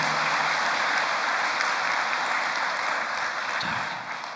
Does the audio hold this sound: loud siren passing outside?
no